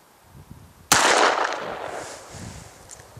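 A Smith & Wesson Model 27 revolver fired outdoors in winter: a single loud, sharp report followed by a long fading echo, with faint background sounds before it.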